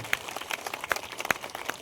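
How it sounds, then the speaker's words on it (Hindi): An audience at a large Hindu gathering applauds, a steady patter of many hands with a few sharper claps standing out, somewhat distant in a reverberant space. "जोरदार तालियां आपकी तरफ से आनी चाहिए"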